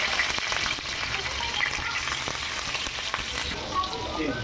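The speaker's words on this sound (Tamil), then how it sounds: "இப்போ நல்லா குழம்பு கொதிச்சுக்கிட்டு இருக்குது." Tamil-style fish curry gravy boils in a pot, giving a steady, close crackle of popping and sizzling bubbles with no talking.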